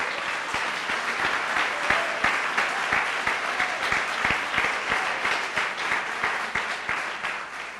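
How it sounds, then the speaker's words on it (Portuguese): A church congregation breaks into sustained applause, sharp individual claps standing out in a brisk irregular rhythm over a dense crowd wash, loud and continuous throughout without speech. "Uma salva de palmas ao Senhor"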